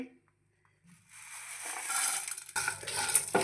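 Urad dal, cumin and dried red chillies dry-roast in a pan for a Bisi Bele Bath spice mix, a soft rising rustle and scrape of stirring that builds after a quiet start, with faint talk.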